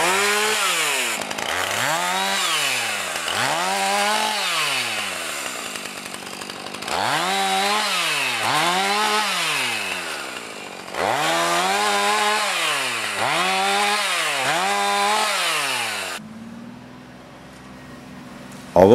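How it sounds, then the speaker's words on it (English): A chainsaw revs loudly and repeatedly while limbing brush along a cabin road, the engine rising and falling in pitch with each cut, running close by for most of the time before idling down. "The chainsaw sure makes quick work of limbing out the road."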